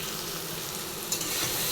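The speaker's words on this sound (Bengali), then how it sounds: "সব মশলাগুলোকে কড়াতে দিয়ে দিয়েছি" Spices frying in a kadai (wok), giving a dense, steady sizzle with a small stir-like bump partway through. No voices.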